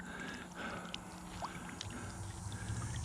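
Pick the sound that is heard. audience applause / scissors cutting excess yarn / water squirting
water squirting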